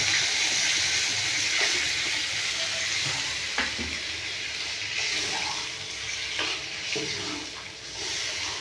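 Water goes into a hot pan of potatoes and pointed gourd for a vegetarian curry, setting off a soft, steady sizzle with a few faint clinks of a utensil against the pan.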